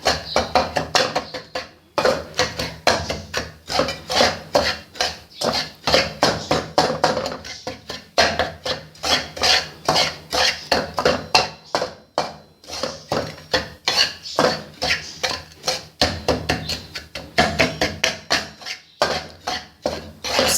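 A spoon stirs flour roasting in desi ghee in a pan for cheerh halwa, making a steady, rapid scraping and clinking against the pan that runs close and continuous throughout.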